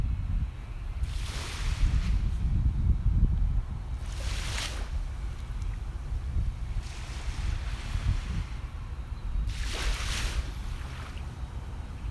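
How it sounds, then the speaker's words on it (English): Gentle ocean waves wash onto a beach in slow, even surges about every three seconds, with steady low wind rumble against the microphone and no voices. "Aren't the waves pretty even in this kind of calm?"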